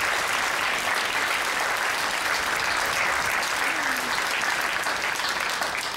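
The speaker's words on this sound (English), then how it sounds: "Stand up, get your applause." A theatre audience at a Rite of Spring music and dance performance applauds the artists, a dense, loud and steady clapping that fills the room without a break.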